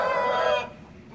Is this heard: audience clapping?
no